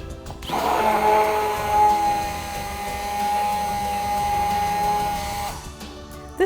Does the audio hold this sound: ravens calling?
no